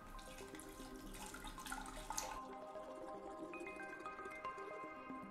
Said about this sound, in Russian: И наливаю золотосодержащий раствор.